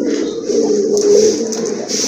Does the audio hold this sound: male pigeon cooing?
yes